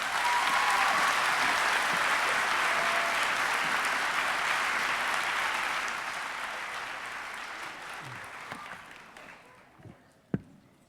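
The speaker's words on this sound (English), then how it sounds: "Can we give them another round of applause, please?" A crowd applauds at a high school graduation commencement, loud sustained clapping that gradually thins and fades over several seconds, ending with a few scattered claps and a sharp knock.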